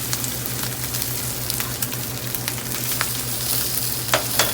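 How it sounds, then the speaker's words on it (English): Shrimp fry in a hot pan with a steady sizzle and scattered sharp crackling pops over a low constant hum, close and fairly loud, with no talk. "We're going to add our shrimp right now and start cooking our shrimp."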